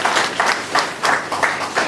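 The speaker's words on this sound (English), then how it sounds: "A round of applause to everyone." Workshop attendees at a customer engagement event applaud, with a moderate crowd clapping in a loosely pulsing rhythm, a few stronger bursts standing out roughly every third of a second.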